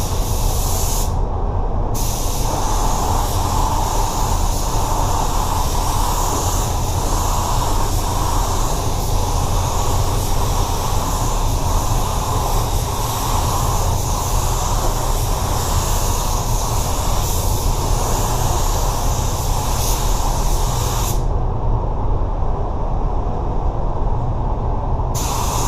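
An Axalta 5500 1.3i spray gun lays Chromax 8300 clear coat onto a Tesla, a loud continuous hiss close by that runs nearly the whole time, broken by brief trigger releases near the start and end.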